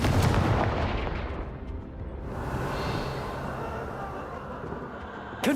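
Fire spell explosions in the Hogwarts Legacy video game, a dense, loud blasting burst that rumbles on steadily through the whole stretch under game combat noise.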